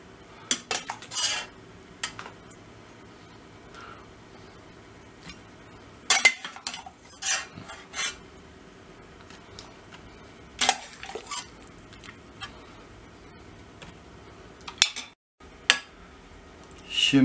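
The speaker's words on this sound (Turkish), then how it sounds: "Şu anda böyle etleri alıyoruz. Bir delikli kepçeyle arkadaşlar." Cooked meat is lifted with a metal slotted ladle onto rice pilaf for etli büryan, giving scattered sharp clinks and scrapes of metal against pot, separated by quiet pauses.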